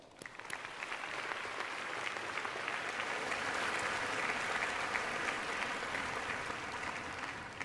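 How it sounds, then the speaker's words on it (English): A convocation audience in a large ceremony hall gives a long, steady round of applause, many hands clapping in a dense, even roar that builds slightly and holds. "join me in offering them a round of appreciation and applause."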